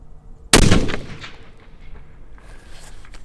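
A single sharp rifle shot from a custom 300WSM loaded with N570 powder and 230-grain Berger hybrid bullets, fired through a clean barrel: one loud close crack with a short decaying echo.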